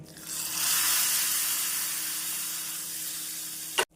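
A hot tempering of dried red chillies is poured into a buttermilk curry (mor kuzhambu), giving a loud, steady sizzle that hisses for about three seconds before cutting off abruptly.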